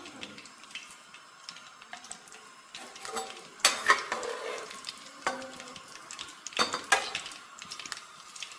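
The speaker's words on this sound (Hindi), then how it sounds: "अब हम गुलाब जामुन फ्राई करते हैं।" Bread gulab jamun frying in oil in a wok over low heat, giving a soft steady sizzle with occasional louder bursts and clinks of a utensil, close and without talk.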